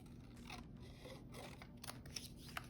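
Scissors snip through adhesive-backed material being trimmed during a craft process, a soft continuous rasping cut with a few small clicks near the end, close and fairly quiet with no talk.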